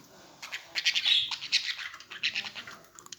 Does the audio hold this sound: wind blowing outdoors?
no